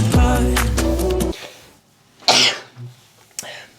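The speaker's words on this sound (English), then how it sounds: "You should have sneezed earlier." A single sharp sneeze bursts out right after a stretch of music and voices, followed by a few quieter vocal sounds and a short exclamation, close and fairly loud.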